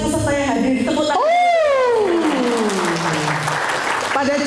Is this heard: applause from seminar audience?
yes